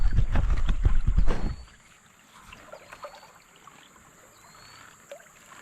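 Water swirls and sloshes in a gold pan during panning, a close burst of splashing for about a second and a half, then faint trickles and drips.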